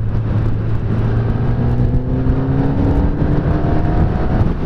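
A 2016 Kawasaki ZX10R motorcycle pulls hard in top gear, its engine note climbing steadily in pitch as it accelerates, loud and close with constant wind rush throughout.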